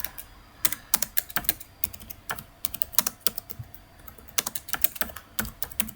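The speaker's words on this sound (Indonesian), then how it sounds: "jadi di sini kita akan mengetik teksnya terlebih dahulu, kemudian menyesuaikan seperti yang ada pada contoh" Fingers type on a computer keyboard in quick, irregular bursts of crisp key clicks, close and fairly quiet, with short pauses between runs and no talking.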